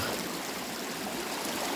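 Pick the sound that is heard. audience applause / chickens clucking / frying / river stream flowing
river stream flowing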